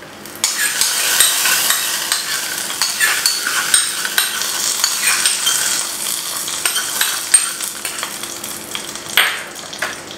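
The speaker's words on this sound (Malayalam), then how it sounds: "അപ്പോൾ നമ്മൾ കടുക് വറുത്തെടുത്തത് ഇതിലേക്ക് ആഡ് ചെയ്ത് കൊടുക്കുകയാണ്" Fried mustard seed tempering sizzles as it is poured into a ripe mango pulisseri made without coconut, giving a steady, close crackling hiss for about ten seconds with no talking.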